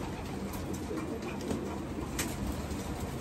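A racing pigeon coos softly up close, a low murmuring repeated over steady background hiss, with no one talking.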